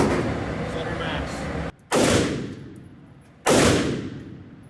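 Machine gun fired in full-auto bursts at a range: three loud, close bursts separated by short pauses, each ending in a decaying echo.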